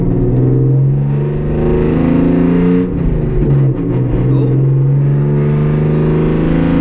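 Hyundai Genesis Coupe engine heard from the cabin with the windows up, a steady loud droning rumble that rises and falls slightly as the car drives, continuous throughout with a brief dip midway.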